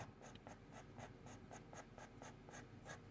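Graphite pencil shading fur texture on paper, a steady run of rhythmic scratchy strokes, about three per second, close and crisp with no talking.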